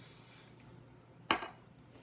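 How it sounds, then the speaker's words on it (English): Quick-tease hairspray is sprayed onto teased hair during a tape-in extension styling session, a single short, sharp hissing burst standing out close against a quiet room. "now I'm going to spray my quick tease again"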